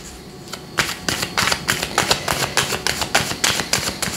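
Tarot cards are shuffled and turned over close up, a steady run of crisp riffling snaps and papery slaps repeating at a quick even rhythm, with no voice over them.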